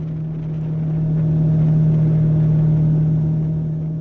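A motorcycle riding along a road from Grova to Kielen in Telemark, Norway, its engine holding a steady, close droning hum with a low rumble and no voices.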